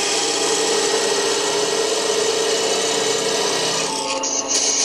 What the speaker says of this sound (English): use a parting off tool. Plunge into there.